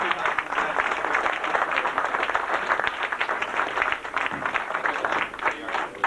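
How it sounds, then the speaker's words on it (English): Crowd at a Bakery Cup 50th anniversary celebration gives a sustained round of applause, dense close clapping continuing steadily for the full six seconds. "Another round of applause for 57"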